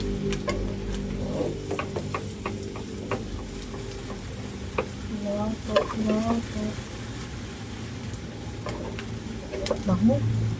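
Garlic and a little onion fry in butter with a soft, uneven sizzle and occasional stirring clinks, while a person talks over it for much of the time.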